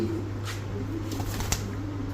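A pigeon coos softly over a steady low background hum, with a couple of brief rustles.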